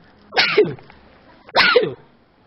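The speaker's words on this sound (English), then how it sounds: "I'm going to sneeze" Two loud, close sneezes, each a sharp burst about a second apart, with quiet between them.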